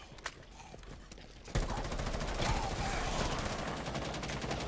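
A player's gun in Rainbow Six Siege Outbreak opens up after a few quiet taps, then fires long, loud, rapid automatic bursts that continue close and steady to the end.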